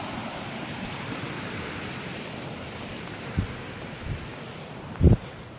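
Creek flowing below a hiking trail on the Three Lakes Loop near Crested Butte, Colorado, a steady broadband rush of water heard from a distance with wind noise and a few soft bumps.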